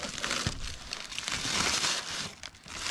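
Packing paper crumpled and rustled by hand while unboxing a heavy parcel, a close, continuous crinkling that keeps going for about three seconds with small crackling bursts and no speech.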